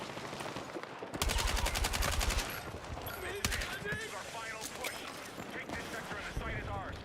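Automatic weapon fire in the video game Battlefield 6 comes in rapid bursts, loud and close, with a sustained stretch early on. Someone talks over and between the shots.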